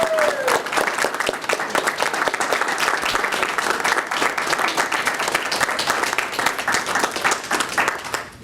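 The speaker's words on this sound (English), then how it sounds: "I have a big round of applause for Ed Zemba, please." A Lions Club dinner audience gives sustained, dense applause for a distinguished citizen honored as guest of honor, with the clapping continuing evenly throughout at close range.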